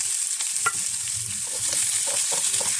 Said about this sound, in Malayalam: സവാളയും പച്ചമുളകും അരിഞ്ഞത് ഇട്ട് കൊടുക്കുക